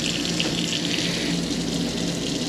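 Water runs steadily through an RV shower while the fresh water lines are sanitized, a constant hissing, splashing flow at close range with no pauses or voices.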